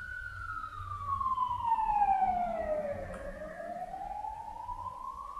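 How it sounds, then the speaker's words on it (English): A siren from the video game Dungeon Crawl Stone Soup wails in a single long falling tone that dips and then rises again, standing clearly above a quiet low rumble with no talking. "There's a siren."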